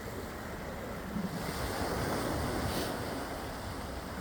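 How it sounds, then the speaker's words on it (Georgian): Atlantic Ocean waves washing over the shore at Staten Island, a continuous broad roar of surf with wind buffeting the microphone. "ოჰ, გადმოვიდა ოკეანე."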